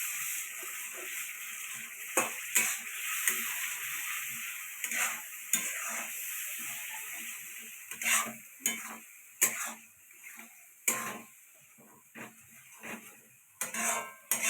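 Spice masala of ground cumin stirred in a pan for turtle meat curry, with quiet sizzling and repeated scraping strokes of a spoon that come in irregular bursts, closer together toward the end.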